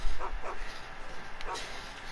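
A dog barking, a few short yips and barks in quick pairs at moderate distance, with faint background noise and a voice nearby.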